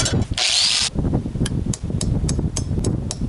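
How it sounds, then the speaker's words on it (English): A power grinder works a steel scimitar blade tang down to fit through a switch plate hole, with a loud high whine burst followed by rhythmic scraping grinding passes, close and without speech. "Gonna grind it down until it fits."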